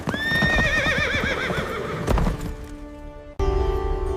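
A wild horse lets out a loud, wavering whinny up close, followed by a few hooves clopping and thudding, then a brief sharp burst of noise.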